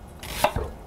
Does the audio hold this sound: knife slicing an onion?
yes